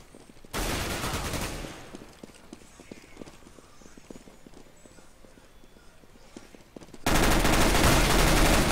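Gunfire in the video game Counter-Strike: Global Offensive, with a loud burst of rapid shots, a stretch of quieter scattered clicks and steps, then another loud sustained burst of fire at the end.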